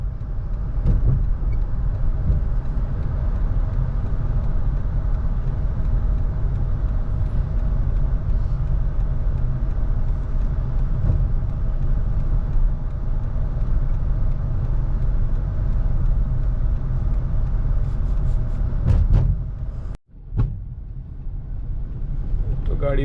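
A car rolls on the magnetic hill at Wadi e Jinn near Madina, giving a steady low rumble of tyres and cabin noise for most of the stretch before it quiets near the end, with voices talking over it.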